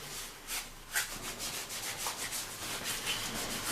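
Cloth or pad rubs repeatedly over battery cell contacts with K60 contact cleaner, giving quiet, rhythmic scrubbing strokes with no voices.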